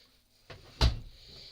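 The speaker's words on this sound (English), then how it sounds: "I'll shut the door again." The door of a Miele WDB030 washing machine is pushed shut, a faint soft contact followed by one firm, close thud with a short rattling tail, in an otherwise quiet room.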